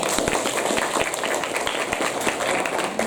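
A classroom of students claps hands together in a dense burst of many overlapping slaps, steady and close for a few seconds.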